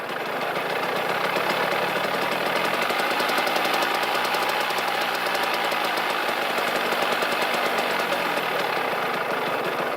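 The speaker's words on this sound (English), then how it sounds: "this here is the throttle or idle adjustment screw in action" A Kawasaki KX 65 dirt bike engine idles after a carburettor clean and adjustment, a loud, close, steady rapid putter that holds evenly throughout with no talk.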